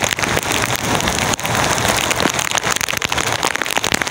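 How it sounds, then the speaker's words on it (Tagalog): Heavy rain pours down steadily during a fishing trip, a dense, continuous roar of drops drumming on a surface close by, with no voices. "Malakas ang ulan."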